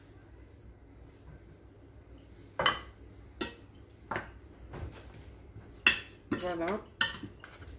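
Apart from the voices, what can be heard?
stirring meat and spices in a pot for tagine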